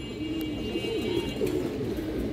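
Pigeons, including an Armilet hen kept among breeding pairs, give soft low cooing calls close by over a light background hiss, with no talk.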